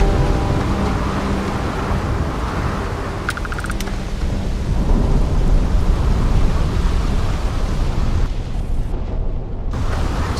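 Thunderstorm in the Starfield game, heavy rain roaring continuously with deep rumbling thunder swelling through the middle, loud and without speech, a brief electronic beeping near the start.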